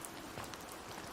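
Steady rain falls in an even, soft hiss of drops on surfaces, constant and unbroken, with no voices.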